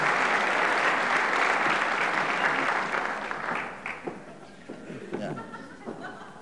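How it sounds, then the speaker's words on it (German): Studio audience on a German TV talk show bursts into loud, dense applause that holds steady for a few seconds, then thins and fades with scattered claps and a little laughter. "Ein Applaus für sie."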